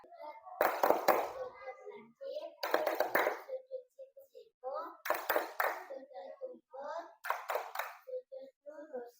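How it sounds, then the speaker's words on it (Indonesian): Children in a classroom play a clapping game, clapping at various angles: four bursts of sharp, quick hand claps separated by short gaps, with young voices chanting along between and under the claps. "Tepuk macam-macam sudut."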